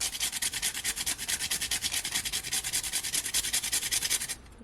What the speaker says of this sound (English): I'm gonna grate some more of my nutmeg, at least ½ teaspoon.